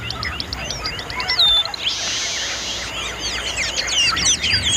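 Many birds call and chirp at once, a dense chorus of quick bright tweets and whistles over a low background hiss, including one sustained higher buzzy note partway through.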